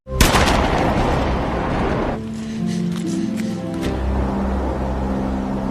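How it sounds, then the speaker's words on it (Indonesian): A sharp, loud gunshot blast at the start, followed by a sustained rumbling roar with low tonal drones continuing underneath, in a film scene. "tiba-tiba terdengar suara tembakan"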